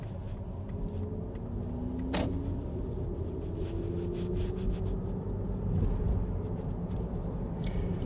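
A 2023 Mercedes-Benz EQE350 Plus in sport mode gives a steady electric motor whine with rising and falling tonal sweeps over low road rumble, continuous and moderately loud, with no talking.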